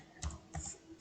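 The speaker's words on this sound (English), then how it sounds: "Type this and press carriage return." A computer keyboard typing a command, three short clusters of crisp key clicks close up in a quiet room.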